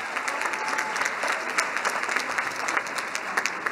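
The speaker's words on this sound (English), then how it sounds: "Let's give the President and his team another round of applause." An audience at a university welcome day gives a sustained round of applause, dense steady clapping from a large crowd with no speech over it.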